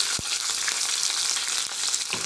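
Tempering spices for a fenugreek-leaf dal (menthu kura pappu) sizzle loudly and continuously in hot oil in a pan, a dense crackling hiss with a few sharp pops.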